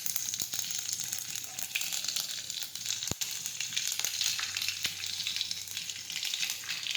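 Green chillies crackle in hot tempering oil with asafoetida for an urad dal, a steady close sizzle with scattered sharp pops and an occasional stir, no voices.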